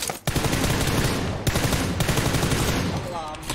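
Automatic gunfire in PUBG Lite sounds as loud, dense rapid bursts almost throughout, with brief pauses between volleys and talk mixed in.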